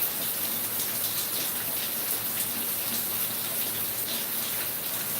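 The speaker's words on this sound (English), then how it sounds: "Can y'all hear a lot of the interference from the rain and the fan?" Rain and a running fan picked up by microphones make a loud, steady hiss with a fine pattering texture and no pauses, heard alone without talking.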